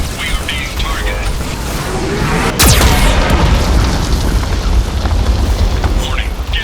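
A heavy Geth cannon blast from the Mass Effect video game lands midway as one loud, sharp boom, followed by sustained rumbling debris under a dense game soundscape that may carry voices.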